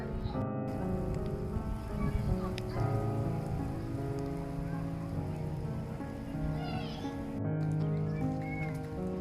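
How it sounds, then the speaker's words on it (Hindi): Light drizzle falls steadily in Abu Dhabi, a soft patter of raindrops on surfaces, fairly faint and even throughout, with occasional distant bird calls and a voice speaking quietly in the background. "अभी भी आप महसूस कर सकते हैं हल्की हल्की बूंदाबांदी"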